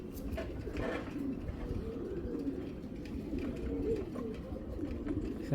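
Pigeons coo in low, continuous murmuring calls from a flock kept for sale, among them a blue-eyed female fantail pigeon, with steady layered cooing close by throughout.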